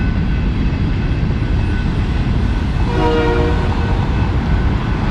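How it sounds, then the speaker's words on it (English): A freight train hauling grain and tanker cars rumbles steadily nearby, cars rolling past with a continuous heavy low roar and some faint tonal squeal midway. "Looks like a lot of grain cars being moved into position."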